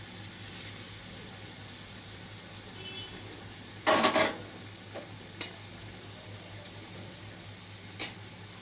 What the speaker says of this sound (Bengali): আমি 4-5টা করে ভেজে নিচ্ছি